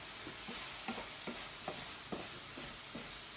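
Mince is stirred in a pan, giving quiet, regular scraping strokes over a soft, steady sizzle.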